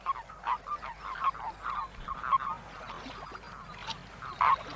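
Toads gather at a pond breeding site, croaking in a string of short, fairly close calls repeated in quick succession, with a louder burst near the end.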